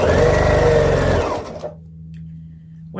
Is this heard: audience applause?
no